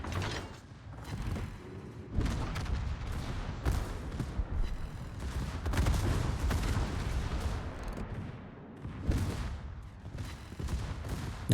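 Secondary guns on the Sibir, a Tier X Soviet battleship in World of Warships, fire a continuous, loud barrage of overlapping booming shots, with heavier blasts standing out from the steady rumble.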